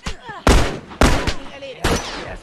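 Gunfire in The Last of Us multiplayer: three loud, sharp close-range shots spaced roughly half a second apart, each with a short decaying tail.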